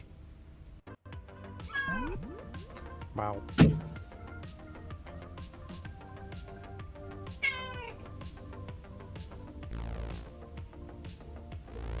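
Cat meowing in several drawn-out, wavering cries spaced over a few seconds, fairly close, with people talking briefly and occasional clunks in the background.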